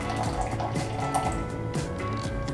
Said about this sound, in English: So I'm just gonna pour it directly into the chamber.